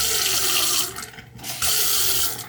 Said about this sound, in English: just turned the water on.